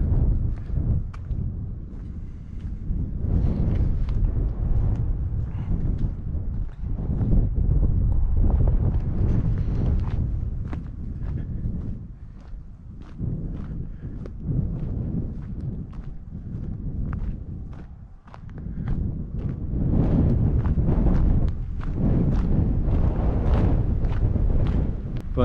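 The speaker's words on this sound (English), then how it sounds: "The wind is terrible." Strong wind blowing outdoors in an old western town near a tramway, buffeting the microphone with a heavy, continuous low rumble that surges and eases in gusts for about twenty-five seconds.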